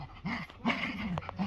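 A Pomeranian puppy gives short, high-pitched whimpers and yips in several quick bursts while playing, heard close and fairly soft with no talking.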